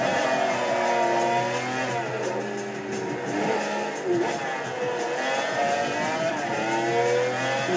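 Race car engine in Gran Turismo 4 on the PlayStation 2, Le Mans circuit near the finish, revving hard and accelerating with a steady rising whine and shifting harmonics throughout, loud and continuous.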